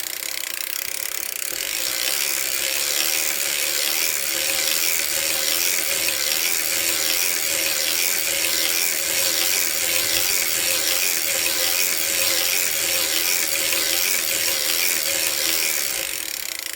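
A hand-cranked circular sock knitting machine running steadily, a continuous close ratcheting clatter of needles and gears in an even rhythm, with no talk over it.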